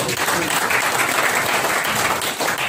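A church congregation claps together in a thick, continuous wash of applause that stays loud and even from start to finish.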